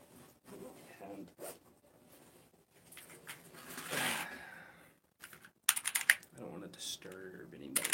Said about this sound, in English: because my keyboard is very, very clicky